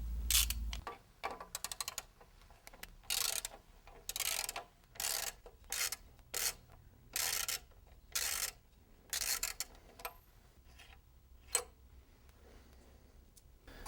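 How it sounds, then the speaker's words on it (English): Bottom bracket cup being worked loose from a LeMond RevMaster Pro indoor exercise bike, heard as repeated close metallic ratcheting bursts with short pauses between them, alone with no talking. "we're going to remove the bottom bracket cartridge bearing assembly, and you want to start by removing the left cup first"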